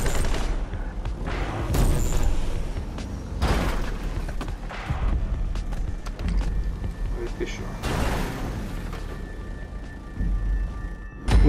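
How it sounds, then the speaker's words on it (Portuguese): Video game gunfire comes as repeated bursts and scattered shots with heavy booms and mechanical clatter, spread across a busy, dense soundscape. "O cara ainda tá atirando aí."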